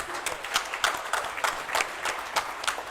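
Applause from a conference audience welcoming a chief vigilance officer on stage, a short steady round of clapping from a mid-sized crowd, moderately loud with individual claps audible.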